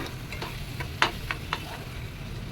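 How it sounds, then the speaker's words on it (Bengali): Mashed loitta fish and tomatoes stirred in a frying pan, with a few sharp spatula scrapes spaced out over a continuous soft sizzle. "এভাবে নাড়াচাড়া করতে করতে শুকিয়ে ফেলতে হবে।"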